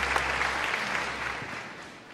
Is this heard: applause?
yes